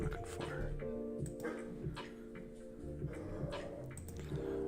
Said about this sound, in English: Oh, the dogs are happy.